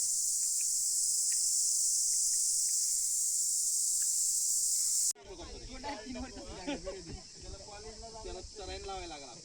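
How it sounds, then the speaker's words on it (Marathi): Crickets shrill steadily in a Maharashtra jungle at dawn during a trek, a dense continuous chirring drone that carries on underneath someone talking once he begins speaking partway through. "सध्या जंगलामध्ये तुम्ही ऐकू शकता रातकिड्यांचा आवाज किती आहे."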